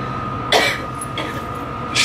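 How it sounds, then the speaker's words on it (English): Two short coughs, one around the middle and another at the end, close to the microphone over a steady background hum. "She's still got a cough."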